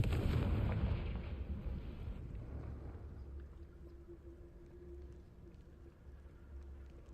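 A Confringo fire spell bursts in Hogwarts Legacy with a heavy, booming blast at the start. The blast fades over a couple of seconds into a low rumble and faint game ambience.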